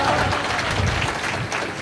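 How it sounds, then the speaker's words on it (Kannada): An audience claps at the inauguration of the renovated Muliya Gold and Diamonds store in Puttur, a dense, continuous burst of applause from a crowd. "ಜೋರಾದ ಚಪ್ಪಾಳೆಯನ್ನು ತಟ್ಟೋಣ."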